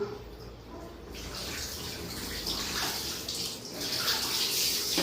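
Water pours and splashes while a baby is bathed at home, a soft trickle at first that swells into a steady, close rush of running water.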